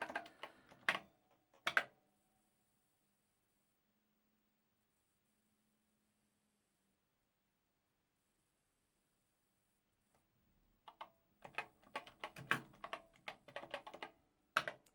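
Keystrokes on a Commodore PET keyboard clatter in two bursts, a short cluster at the start and a denser run of rapid clicks after a long stretch of near silence, close and fairly crisp.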